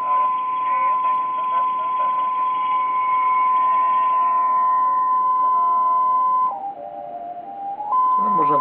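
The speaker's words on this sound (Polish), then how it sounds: "Jest stacja i obok sygnał zakłóceniowy" A steady interference tone beside a broadcast station on an SDR RTL receiver, a constant whistle over a hiss that drops in pitch briefly near the end, then returns.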